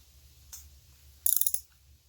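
A ratchet turning a head nut on a Chrysler 350 cubic inch V8 B-block engine: one faint click, then a quick burst of five or six sharp, close ratcheting clicks, with no talking.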